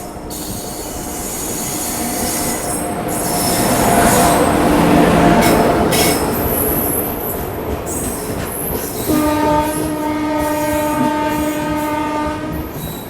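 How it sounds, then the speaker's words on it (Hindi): Gitanjali Superfast Express, a Howrah–Mumbai train, slowly overtakes the Maharashtra Express on an Indian line: a loud, continuous rumble of passing coaches and wheels swells mid-clip, with a sustained train horn sounding near the end. "यहाँ पे आ रही गीतांजलि एक्सप्रेस अपनी महाराष्ट्र एक्सप्रेस को ओवरटेक करने के लिए।"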